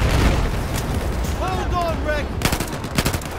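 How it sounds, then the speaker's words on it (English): Battlefield 4 combat rumbles with heavy booms and bursts of gunfire, loud and continuous, while players talk over the noise. "Weird stuff and explosion being shot at"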